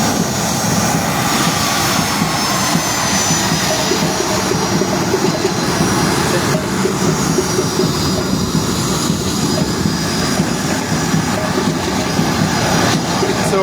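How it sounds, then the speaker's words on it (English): A departing airliner takes off at an international airport, a loud, continuous broadband engine roar and rushing noise that holds steady throughout, heard alone without talk. "The flight is taking off now."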